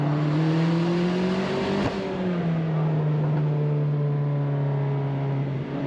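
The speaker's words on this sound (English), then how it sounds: "Just feel how quick it rises in those RPMs." Turbocharged Mazda MX-5 Miata ND with aftermarket tires and suspension revs up through the range, a loud steady engine note rising in pitch, briefly dipping and then climbing again, with no talking.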